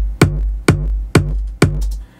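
Synthesized kick drum from a custom user kick in a kick VST plugin, pitched to key and shortened for a Melbourne-style remix: four punchy, booming hits alone at a steady beat, each with a sharp attack and short decaying tail.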